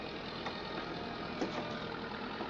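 A tractor engine in a farming survival video game runs steadily at a low idle, a continuous mid-level drone with no talk over it.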